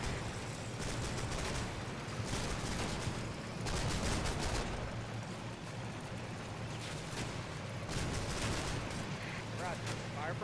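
A .50 caliber machine gun opens up amid other gunfire in a WWII Normandy setting with an armored regiment, heavy rapid bursts rolling over a dense battle din, with voices faintly under the noise.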